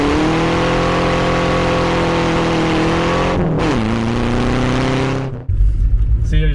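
A Renault 4L swapped with a Renault 5 1400 engine revs hard, a loud steady high-pitched drone that dips and then rises again at close range before a burst of rumbling wind buffets near the end.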